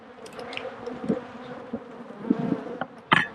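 Honeybees buzz around an open hive during a beekeeping inspection, a soft, wavering drone with individual bees passing close in brief louder swells.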